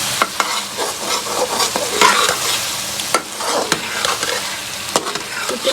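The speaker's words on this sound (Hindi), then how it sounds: "चिकन की अच्छी तरह से बुनाई करेंगे ताकि स्मेल बाकी ना रहे" Chicken stir-fried with turmeric and other spices in a pot, a spoon repeatedly scraping and stirring against the metal over a steady close sizzle, with sharp clicks scattered throughout and no talking.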